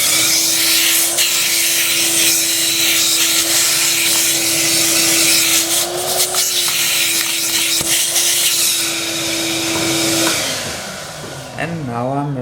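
A vacuum cleaner roars steadily and close as it sucks up battery corrosion debris in a Toyota RAV4, with scraping and rustling as the nozzle moves, then the motor winds down near the end.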